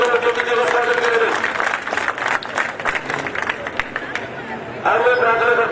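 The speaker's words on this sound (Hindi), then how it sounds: "सभी साथी ताली मारकर मुख्य अतिथि का स्वागत करेंगे।" Crowd clapping welcomes the chief guest at a village campaign gathering in Hathira, near Thanesar, a few seconds of dense applause with a voice talking over it at the start and end.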